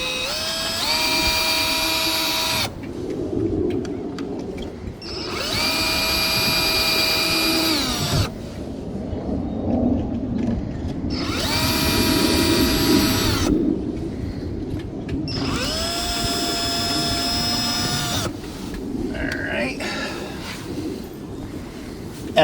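A power drill drives screws into a Run-Chicken T-50 automatic chicken coop door in four loud, whining bursts of a few seconds each, separated by short pauses with quiet outdoor background.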